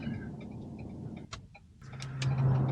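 A truck towing a dump trailer idles and rolls to a stop at a customer's address, a low engine hum that dips briefly, then a steadier drone with a faint whine near the end.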